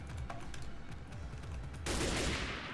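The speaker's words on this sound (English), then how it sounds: "Ah, I hear shooting." Bursts of gunfire in a blocky Minecraft battle between humans and apes, a steady crackle of repeated shots at moderate loudness, swelling into a denser, louder burst near the end.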